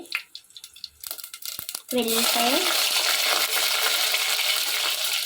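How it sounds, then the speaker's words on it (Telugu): Dried red chilies and mustard seeds dropped into hot oil for tempering, a few light clinks and rustles giving way to a sudden steady sizzle and crackle, close and continuous. "ఇప్పుడు ఇందులోకి తాలింపుకి ఎండుమిరపకాయలు, ఆవాలు కొన్ని సరిపడా వేసుకోండి."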